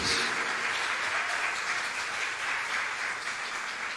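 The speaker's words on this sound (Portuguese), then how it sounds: "Você pode dar um aplauso bem forte ao Messias, amém, queridos?" A congregation applauds during a church service: a continuous, fairly loud wash of many hands clapping together, steady throughout with no individual claps standing out.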